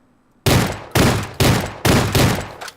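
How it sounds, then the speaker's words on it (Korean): Origin-12 shotgun from Ring of Elysium, fitted with full attachments, fires five loud, evenly spaced blasts in quick succession, each shot sharp and near with a short decaying tail, and no voices over it. "이게 이렇게 좀 빠른 편에 어, 풀파츠였을 때에 빠른 편으로 사격이 되네요."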